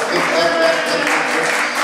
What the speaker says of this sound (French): Applaudissez la salle.